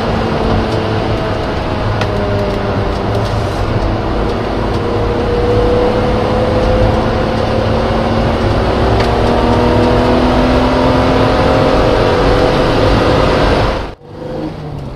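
A BMW Z3 M Coupe engine drones loudly and steadily on a test drive, its revs swelling and falling in long sweeps before cutting off sharply near the end.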